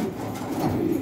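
Pigeons in a loft give a low, muffled coo, a short continuous burble heard close by with no voices.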